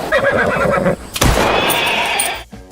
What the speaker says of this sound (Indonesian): Melihat kuda itu terluka parah, Pablo memerintahkan anak buahnya untuk menembak mati kuda itu